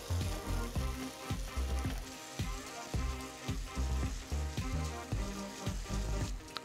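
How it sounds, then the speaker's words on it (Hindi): Tomatoes fry in ghee for a lauki kofta gravy, a soft bubbling sizzle close by, broken up by regular scraping strokes of a spatula as they are stirred. "ये देखो अभी घी छोड़ रहा है ना टमाटर."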